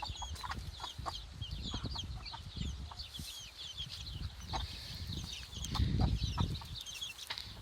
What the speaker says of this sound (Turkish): Şu beyazla şu siyah olan sultan tavuğumuzun kırma civcivleri. Diğerleri de Hint civcivleri.